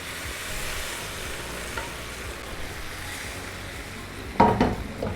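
Mutton pieces tipped into a pan of frying pepper masala and stirred, a steady close sizzle swelling into a louder burst of clatter and crackle near the end, with no talking.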